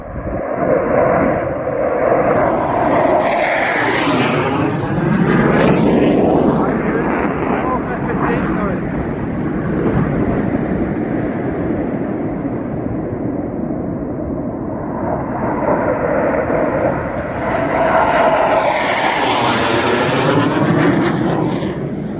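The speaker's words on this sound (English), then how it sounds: "Two F-15s, lovely." F-15 fighter jets fly low through the Mach Loop valley with a loud, sustained roar that swells, eases and then swells again as a second pass arrives, while people talk faintly beneath it.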